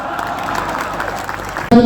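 Audience applause at a comic gathering in Banaras, a steady wash of clapping for almost two seconds, cut off abruptly as a voice begins.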